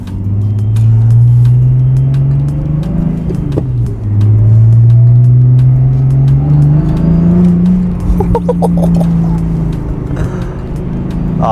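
A BMW E46 drift car with a short shifter is driven hard, its engine droning loudly as revs climb, dip near four seconds, then rise again through gear changes, close and continuous.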